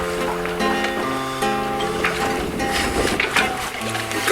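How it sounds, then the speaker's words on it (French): Motorboat engines drone through thick fog at sea, a steady layered hum of several motors with shifting pitch, moderately loud and close, with faint water noise beneath. "We can only hear the vrombissement of the motors approaching just all around."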